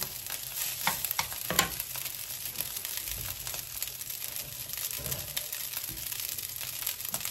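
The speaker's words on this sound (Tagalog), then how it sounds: "Yan ang fried rice natin for today." Fried rice is stir-fried in a pan: a steady sizzle runs throughout, broken by repeated scraping and tossing strokes, with no talking.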